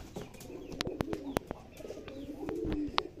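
Homing pigeons cooing at their cage, several close, soft rolling coos with scattered sharp clicks and a brief flutter, under faint background noise.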